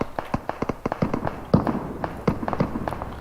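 Rapid gunfire crackles from many directions during a battle royale video game tournament match, a dense run of sharp, loud shots in quick irregular bursts with no speech over them.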